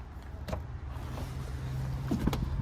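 Power liftgate on a 2024 Buick Encore GX ST: a steady low electric motor hum runs under a few sharp latch clicks, close by and fairly quiet, with no speech.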